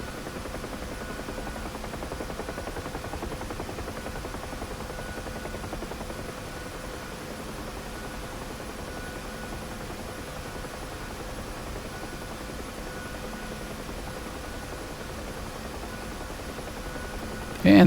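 A simulated Huey helicopter in DCS flies over Syria near Incirlik and Adana, its steady rotor and turbine drone filling the cabin continuously with even loudness, a pilot's voice heard faintly over it.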